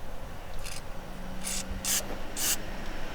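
Silicone lubricant sprayed onto the window crank mechanism of a 1990-1997 Mazda Miata MX5: four short, quiet hissing bursts in quick succession, each lasting a fraction of a second.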